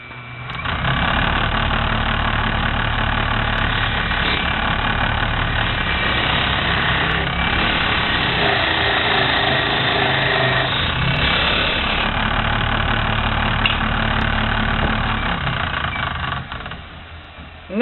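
Wood lathe spinning a tigerwood bowl blank while a tenon is cut, giving a steady low motor drone with a continuous rough cutting hiss.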